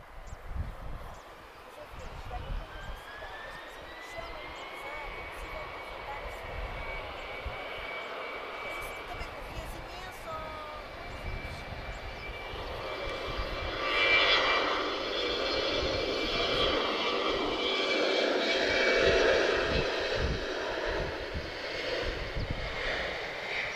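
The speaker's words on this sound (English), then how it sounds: "we're looking at an Embry E195 advanced range" An Embraer E195 advanced-range airliner at Lisbon Airport rumbles in a steady drone that grows louder and broader midway into a long takeoff roll, with a faint rising whine over it and a voice talking now and then.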